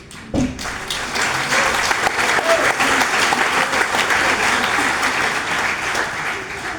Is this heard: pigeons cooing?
no